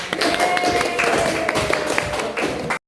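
Classroom applause for a student: many pupils clap together in a continuous, fairly loud patter, with faint voices mixed in before it stops abruptly.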